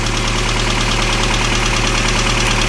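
Car engine idling right after an oil change, a loud, steady mid-pitched drone with a faint rhythmic knock and vibration, heard up close without talk.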